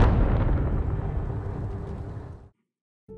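A car blows up in a film scene with a loud, deep blast that rolls on and fades over a couple of seconds before cutting off abruptly.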